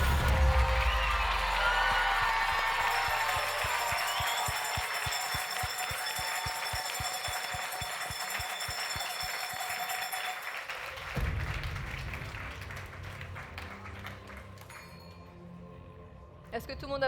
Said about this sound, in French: Allez, on peut les applaudir